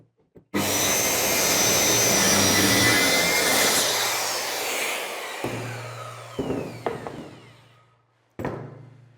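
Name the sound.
electric saw cutting through flooring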